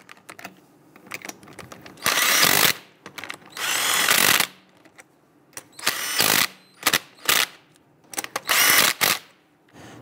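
A power tool runs down the wheel lug nuts on a 2011-2019 Ford Explorer in bursts: several loud, close whirring bursts separated by short pauses, with small clicks and handling noises between them and no talking.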